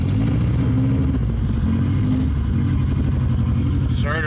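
A Honda Civic Si engine runs at a steady idle after starting, a loud, close, rumbling drone with someone talking over it.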